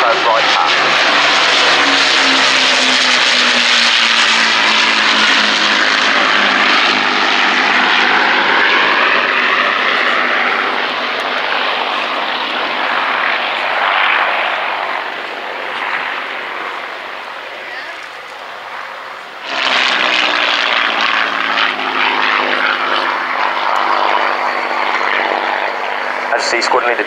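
A Spitfire flies its display at RIAT Fairford, its piston engine roaring loud and close with a sweeping, pitch-shifting pass, fading briefly before surging back in another loud pass. A public-address voice talks alongside.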